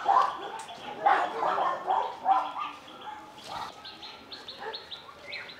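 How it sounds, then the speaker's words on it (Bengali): Pigeons in a garden aviary in Satkhira coo and flutter close by in short irregular bursts, with a dog-like yelp and chirps mixed in. "এখানে তিনটা একটু অন্যরকম কবুতর রয়েছে"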